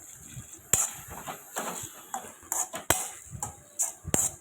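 Chilli potato fry gets mixed with soy sauce, tomato ketchup, green chilli sauce and vinegar in a pan. A spoon scrapes and clinks in sharp, irregular knocks, close and fairly quiet.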